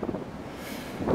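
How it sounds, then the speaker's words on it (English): Wind blows across the open upper deck of a cruise ship, a steady broadband rush with gusty swells at the start and end and no voices. "being outside it's still pretty windy"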